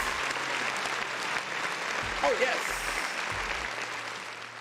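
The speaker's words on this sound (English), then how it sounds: "It's round of applause for the people in the chat." Applause played from a soundboard during a chat-show stream, a steady dense clapping sound that runs throughout while someone briefly speaks over it.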